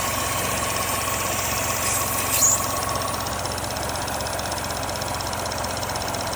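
A Chevy Sonic or Cruze engine idling rough, with a constant low mechanical drone and an uneven pulsing beat, heard close and steady with a brief faint clatter midway.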